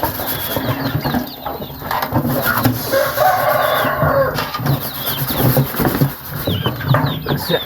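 A rooster crows repeatedly at close range at a rural Thai homestead in the morning, the calls rising over a steady background rumble and a light chatter of other birds.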